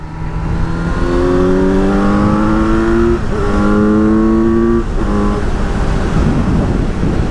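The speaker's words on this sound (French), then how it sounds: "j'adore la sonorité des Kawasaki, les 4 cylindres, j'aime bien, ça hurle" A Kawasaki Z900 2018 four-cylinder motorcycle engine screams as it accelerates hard, its pitch climbing through several quick gear changes, loud and close.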